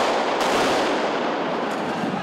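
Protesters throw bombs and fireworks during a street clash, and the blasts and crackling bursts ring out over a dense, loud, continuous roar of noise.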